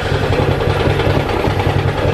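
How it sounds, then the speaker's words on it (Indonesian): Motorcycle engine running steadily at a low idle, a continuous mid-low throb with even pulsing and no voices, while the battery is failing to charge. "Kita nyalakan lagi nih sepeda motornya"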